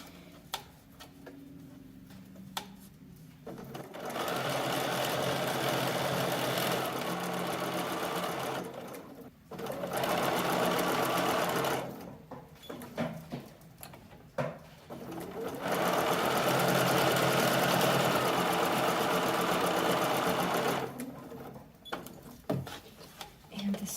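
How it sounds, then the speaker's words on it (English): A sewing machine stitches a lingerie slip in three long steady runs, pausing between bursts with soft ticking and handling sounds, loud and close with no talking. "I sink my needle so I don't change the tension and mess up the stitching"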